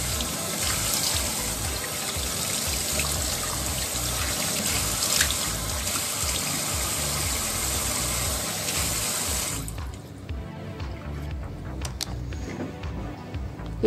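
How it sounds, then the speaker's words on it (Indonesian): Running tap water splashes steadily while a face is rinsed clean at a sink, a loud continuous rush that cuts off near the end, leaving a few faint drips and small sounds. "Lalu dicuci bersih sampai bersih, nggak ada sabun"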